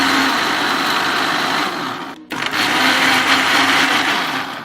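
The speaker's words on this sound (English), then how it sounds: "So I'm just going to roughly blend it." Blender roughly pureeing tatase and tarugu peppers for cow leg pepper soup, a loud steady whir with a brief dip in the motor sound midway before it resumes.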